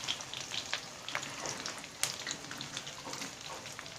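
Onions fry in a pan with a dense, steady crackling sizzle and scattered sharp pops, close and fairly loud, with no talking.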